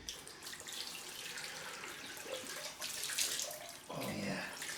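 Cold water runs steadily from a tap for a rinse after a head shave, a continuous splashing hiss with shifting splatter as it hits skin and the basin.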